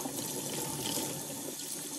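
Hot water pours steadily from a tap in a constant, close rushing stream with no break for the whole stretch.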